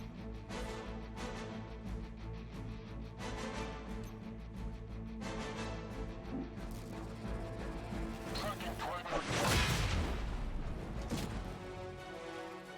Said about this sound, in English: Away from this explosion.